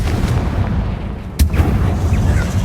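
A Confringo blasting spell explodes in the Hogwarts Legacy video game, a single loud boom with a sharp crack midway, heard over a constant rumbling low game background.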